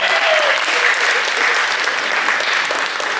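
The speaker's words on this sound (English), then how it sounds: "Give them both a round of applause, everybody." A high school post-prom hypnosis show audience applauds its participants: steady, dense clapping from a full crowd, sustained and loud throughout, with a few cheers rising over it.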